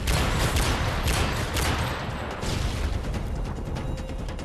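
Dense, sustained gunfire from the video game Call of Duty: Modern Warfare 3 in Spec Ops mode, rapid overlapping shots and bursts, loud and close, with no talk over it.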